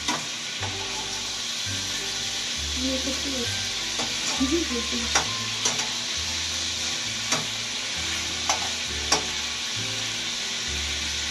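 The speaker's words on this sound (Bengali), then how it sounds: "এখন আমি পেঁয়াজ ভেজে নেবো" Onions frying and sizzling in hot oil, a steady broadband hiss carrying repeated clinks and scrapes from a stirring utensil against the pan, with a low intermittent hum beneath.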